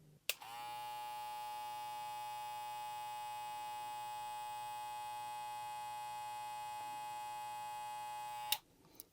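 A Gamma+ Shorty hair clipper runs steadily for about eight seconds, a close, even electric buzz with a bright whine, starting and stopping with small clicks.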